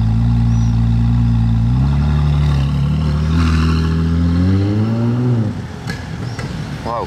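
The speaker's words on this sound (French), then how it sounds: "Waouh, petit retour d'échappement" Ferrari 296 with a Novitec carbon exhaust, a loud close engine drone that rises in pitch through revs, then drops off with a few light exhaust pops and crackles as it settles.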